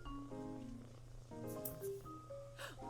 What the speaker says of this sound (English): Hey, how's it going, Soup? It's my cat!